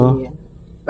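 A dog gives a single loud, close bark, followed by a short yip at the end, in a home setting.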